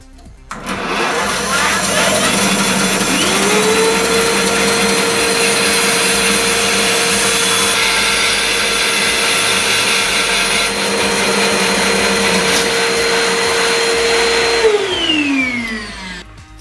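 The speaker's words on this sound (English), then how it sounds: "locking it off, and then we can do our mitred cut" A mitre saw motor spins up and whines steadily at high pitch through a long mitred cut, loud and close, then winds down as the blade slows at the end.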